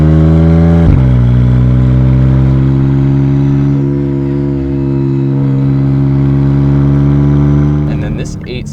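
A 2023 McLaren Artura driving in sport mode gives a loud, steady engine drone close by, with a brief shift or rev change near the start and the note fading toward the end.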